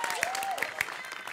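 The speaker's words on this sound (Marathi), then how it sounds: "हा टाळ्या वाजवा त्यांच्यासाठी" Brief scattered clapping rises from an audience at a live comedy show, a short burst of hands under some lingering voices and crowd noise.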